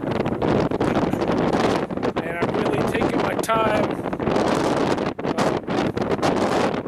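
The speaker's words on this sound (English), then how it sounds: "It's crazy windy" Strong wind on a ridge buffets the microphone in loud, roaring gusts, with a person talking briefly underneath the blustering noise.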